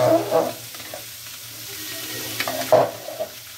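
Spices for khichuri fry in a pan with a steady low sizzle, broken by a few louder stirring scrapes and clatters.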